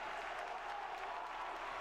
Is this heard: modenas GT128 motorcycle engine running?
no